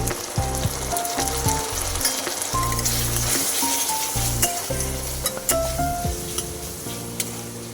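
Spices with ground coriander sizzle in hot oil in a pan for a Bengali doi chicken, stirred steadily with repeated clinks and scrapes over a continuous frying hiss, close and fairly loud, with no voices.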